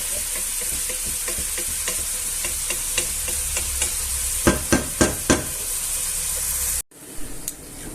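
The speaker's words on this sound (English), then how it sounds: "And we'll gently fry it until it's slightly" Garlic and onion fry gently in a pan for Spanish clams a la marinera, giving a steady close sizzle with occasional light clacks of stirring, before the sound cuts off abruptly and a few faint taps follow.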